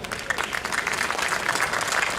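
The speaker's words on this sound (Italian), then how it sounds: "Facciamo un applauso a Raffaele." Audience applause at a village threshing festival in Albignasego, a steady dense clapping from a crowd held at moderate level throughout.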